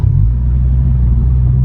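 A 2020 Honda Civic Si running a MAPerformance street exhaust gives a deep, steady low rumble at idle, loud and close, holding even with no revving and no voices.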